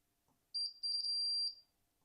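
A multimeter continuity beep while testing a capacitor on a Roberts Blutune 5 DAB radio circuit board, a short high chirp followed by a sustained steady tone lasting about half a second, clear and alone.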